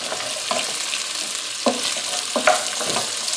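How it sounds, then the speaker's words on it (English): Chopped onion and fennel sauté in a pan with a steady, fairly loud sizzle, interrupted by a few sharp stirring scrapes and clacks. No voices are heard. "We're going to put those in and saute for about 5 or 6 minutes, maybe a little bit longer."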